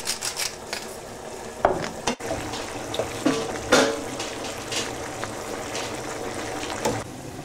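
Seasoned mince cooks in a pan with a low bubbling sizzle, broken by scattered spoon clatters and stirring scrapes, close and moderately quiet.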